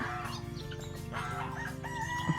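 Guinea fowl call on a farm in a dense, steady chorus of repeated shrill cries over continuous bird and farmyard noise, with no talking.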